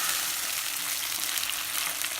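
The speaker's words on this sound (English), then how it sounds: "Now I've been frying it for 5 to 6 minutes" Steady, close sizzling of mutton liver frying in masala in hot oil, a continuous crackling hiss with no voices.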